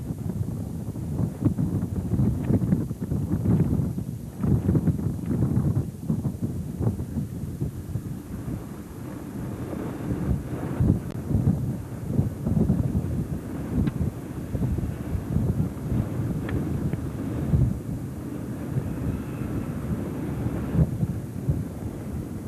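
Strong, incessant wind buffets the microphone during a 1990 ten-mile road race near the village of Cottingham, a steady low roaring rumble with gusting surges throughout.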